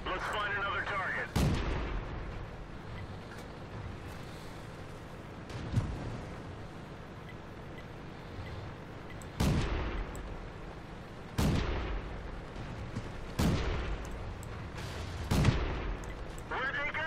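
Self-propelled artillery gun in World of Tanks firing repeatedly, several loud booming shots at irregular intervals over a steady rumbling game background, heard on Fishermans Bay map.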